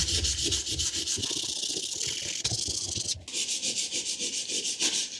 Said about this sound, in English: I already used this sandpaper and got it pretty smooth, but it's not super smooth